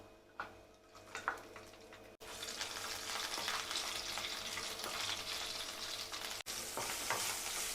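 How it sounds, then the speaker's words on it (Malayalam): Cumin seeds and sliced green chillies fry in hot oil: a quieter start breaks into a loud, steady crackling sizzle that runs on with no talk. "പച്ചമുളകെല്ലാം ഇതേ രീതിയിൽ ഫ്രൈ ചെയ്ത് കിട്ടിയിട്ടുണ്ട്."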